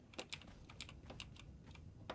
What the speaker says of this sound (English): Sorry if you hear my keyboard clicking.